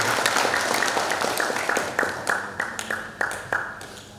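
Audience applause at an Indonesian public outreach session on illegal excise goods: a dense, steady patter at first that thins out into scattered individual claps toward the end.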